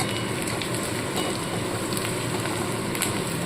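Chopped green chilies sizzle as they fry in a pan, a dense, steady crackling hiss with small pops scattered throughout, close and fairly loud, with no talking.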